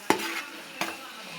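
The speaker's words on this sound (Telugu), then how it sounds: "పచ్చి వాసన పోయేదాకా అల్లం వెల్లుల్లి పేస్ట్ వేపాలి." Ginger garlic paste fries and gets stirred in a pan for veg biryani, with two sharp scraping strokes of a spoon over a soft, steady sizzle close by.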